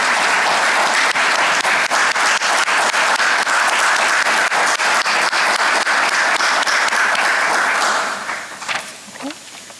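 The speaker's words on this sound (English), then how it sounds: "Do you guys want to stand up and be applauded?" Audience at the 2025 AIA Awards Ceremony gives the design awards committee a loud, sustained round of applause lasting about eight seconds before it fades out into quieter room noise.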